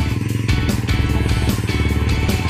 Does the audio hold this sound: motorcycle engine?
yes